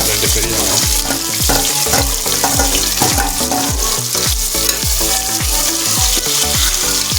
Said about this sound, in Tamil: இதெல்லாம் கோல்டன் ப்ரௌன் வதங்கட்டும்